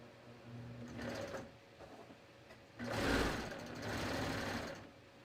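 Sewing machine stitching a sleeve into an armhole, running in short bursts of rapid mechanical whirring, then a longer louder run, close up with brief pauses between, no talking.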